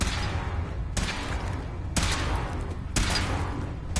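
Gunfire from a weapon in Fallout 4 on PS5: three loud, sharp shots spaced about a second apart, each bursting over a steady rumbling background with no talking.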